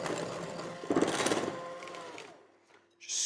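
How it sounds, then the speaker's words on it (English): A cordless hand mixer whirs as it creams butter and sugar together, a close motor buzz that fades out midway before a brief scrape and a short renewed burst. "I do love my cordless mixer."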